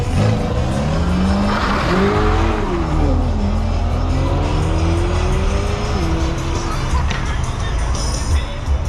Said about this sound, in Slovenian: Počasi se premikamo proti štartu, na pol minute pa vsak avto spelje.